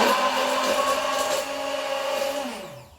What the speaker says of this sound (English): While that's in there by itself, we blend the egg up.